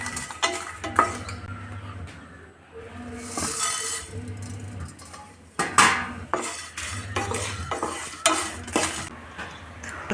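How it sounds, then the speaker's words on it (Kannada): Spices, chillies, curry leaves, fenugreek, pepper, coriander, cumin, urad dal and mustard seeds dry-frying in a pan, heard as close metallic scraping and clinking of a spoon against the pan in irregular bursts with a light sizzle beneath. "ಇದಿಷ್ಟನ್ನು ನಾವಿವಾಗ ಫ್ರೈ ಮಾಡ್ಕೊಳ್ಳೋಣ"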